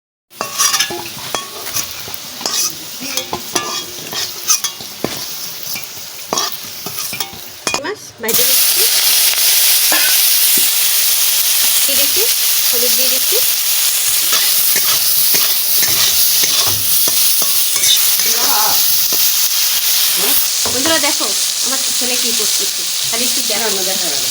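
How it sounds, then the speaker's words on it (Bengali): Prawns frying in a pan for a prawn biryani, stirred repeatedly: a loud, steady sizzle that jumps up in intensity partway through, with scraping and clinking from the spoon against the metal pan, close up. "চিংড়ি মাছ ভাজা হয়ে গেছে তুলে দিচ্ছি সব কিছু একসাথে"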